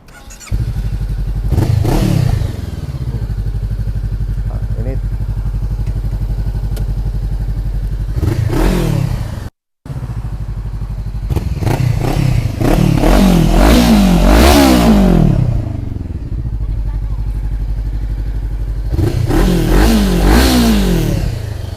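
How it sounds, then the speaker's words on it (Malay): A 500R motorcycle fitted with an Akrapovic exhaust revs loudly and close up in repeated throttle blips, dropping back to a steady idle between bursts, with no talking. "500R Akrapovic exhaust. Bunyi dia macam mana?"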